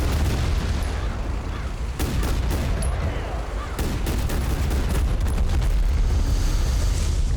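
Scattered gunfire in the video game Total Conflict: Resistance, irregular sharp shots and volleys cracking over a constant low rumble of battle, some near and some more distant.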